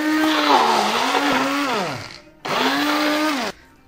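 An electric grinder jar whirs loudly through a butter mixture in two bursts, the motor pitch sagging under load, then a short pause before the second run cuts off abruptly.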